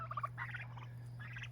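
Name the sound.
turkeys gobbling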